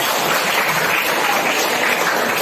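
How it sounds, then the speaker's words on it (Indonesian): Classroom applause from a group of pupils, a steady dense patter of many hands clapping close by, continuous and even throughout with no voices over it. "Luar biasa, tepuk tangan."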